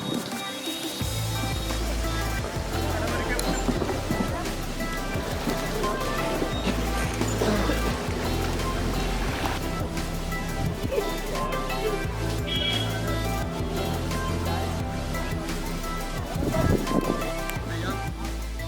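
Steady broadband rush of water flowing at Bogatha Waterfalls in Telangana, a continuous outdoor roar that stays even and loud throughout, with low rumble beneath.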